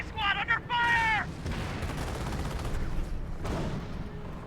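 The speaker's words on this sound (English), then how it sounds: "good mortar hit there" Mortar and artillery fire striking in Company of Heroes, a real-time strategy video game: a steady rumble of distant booms and shelling follows a short synthetic voice alert, with a louder impact toward the end.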